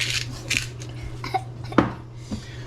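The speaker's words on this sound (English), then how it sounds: "I got my other spoon here. I'm just gonna mix it up." A metal spoon mixes kale soup in a pot, giving a handful of scattered clinks and scrapes at irregular intervals, fairly quiet over a low steady hum.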